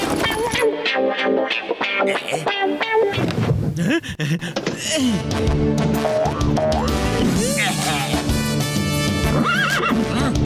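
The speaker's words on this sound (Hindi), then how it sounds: "चल मेरे घोड़े" A cartoon horse whinnies and gallops with clip-clopping hooves in a Motu Patlu animated scene, heard loud over constant background music with brief voice sounds.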